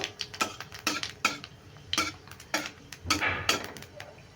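Spoon or spatula stirring pumpkin, green chilli and panch phoron tempering in a pan for a raw mango sweet-sour curry, giving a run of close, irregular metallic clinks and scrapes with quiet sizzle beneath.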